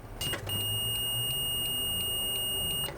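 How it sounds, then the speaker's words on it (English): A multimeter gives a continuous high-pitched continuity beep while testing a camera battery's negative pin, steady for about two seconds and cut off sharply at the end, close and clear. "we're waiting for the beep"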